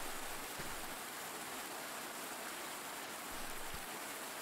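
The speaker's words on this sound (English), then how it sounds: "The rain bucketed down from above, soaking her to the very core." Heavy rain pours down steadily in a scene from the video game Amelie, a broad, even hiss of falling water with a couple of faint low thuds, heard alone without any voices.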